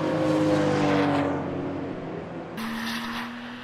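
Porsche 924 race cars racing at Cadwell Park: a steady engine note sweeps past and fades, then another car's engine rises sharply nearby, droning and revving.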